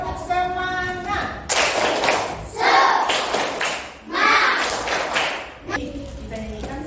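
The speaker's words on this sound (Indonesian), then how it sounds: "Tepuk semangat." A classroom group doing a rhythmic Indonesian 'tepuk semangat' spirit clap, with bursts of hand clapping and thumps coming in several loud patterned waves, mixed with voices chanting along.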